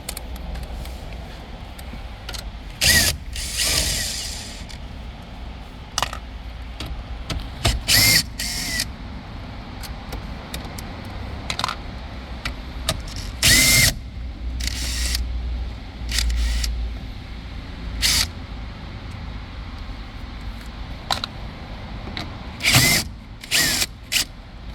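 Ratchet clicks come in short, repeated bursts as 10mm screws are backed out of the radio bezel on a 2020–2023 Toyota Tacoma dash. The bursts are separated by pauses and quieter handling noises, with nobody speaking.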